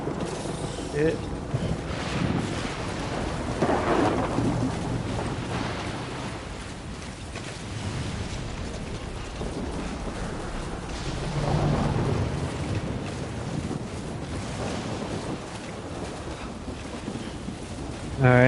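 Thunderstorm in Death Stranding on PS5: steady rain hiss with low rolling thunder rumbles swelling around the middle and again later, continuous and fairly loud throughout.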